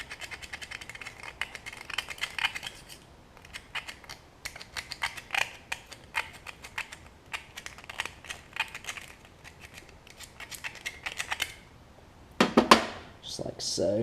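A screwdriver scrapes the inside of a Kohler Lawn Boy carburetor in quick, rasping bursts of short scratchy strokes, close and fairly quiet, with a louder clatter near the end.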